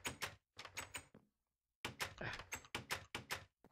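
Blocky wooden doors in Minecraft swing shut one after another inside a house, a rapid series of close, dry clacks in two bursts separated by a short pause, with no voices.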